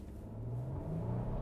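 2025 Nissan Armada accelerating in first gear, a steady low engine drone and rumble rising slightly in pitch, close and continuous without talk.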